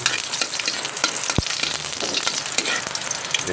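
Garlic frying in oil in a hot pan, a bright continuous sizzle with scraping stirring sounds and a sharp clink of a utensil partway through, close and fairly loud.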